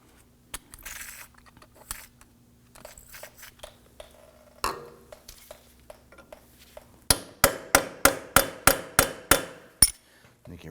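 Hammer striking a punch set on the end of a front axle at the knuckle of a 2008-2011 Ford Focus; scattered light taps early, then a close, loud run of about ten evenly spaced metallic blows.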